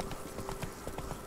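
Horse hooves clip-clop in a quick, steady rhythm in The Witcher 3: Wild Hunt – Blood and Wine, Toussaint, close and clear over a low, constant background hum.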